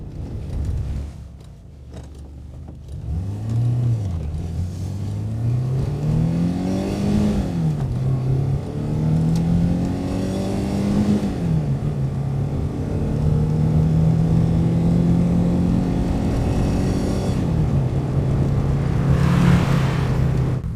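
A 1982 Renault 5 Alpine Turbo Gordini drives on a main road, its turbo engine revving up through several gears, each rising pull dropping at a shift, heard loud and close from inside the car.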